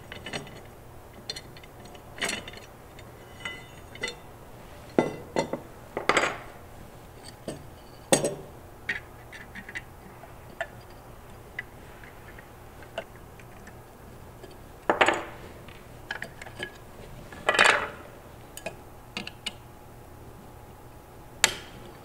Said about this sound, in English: Simply remove the two screws on the bottom of the unit,